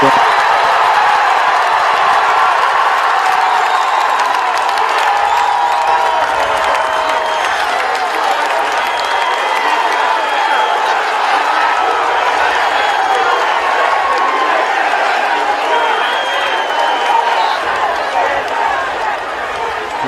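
A large crowd at a political rally roars and cheers continuously, a loud dense wash of voices with scattered whoops and clapping throughout.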